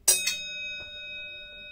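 A single bright metallic ding from a Watlkan horn bell rings out, followed by a second quick strike, then a clear tone that fades slowly into quiet.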